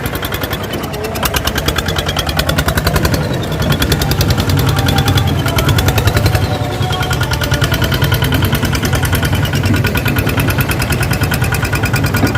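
A single-cylinder engine on a three-wheeled grass-cutting vehicle runs steadily in third gear, giving a loud, close, rapid pulsing drone with slight rises and dips in pace.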